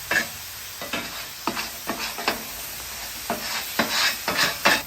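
Steak fajita pieces sizzle on a Traeger flat top griddle as they are pushed back and forth, with repeated scraping strokes in an uneven rhythm over a steady hiss, close and fairly loud, with no talking.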